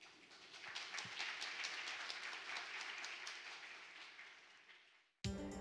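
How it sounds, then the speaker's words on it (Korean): An audience at a science lecture gives steady applause to welcome the speaker, faint and distant, holding for several seconds before fading out, followed by an abrupt cut. "큰 박수로 맞아주시기 바랍니다"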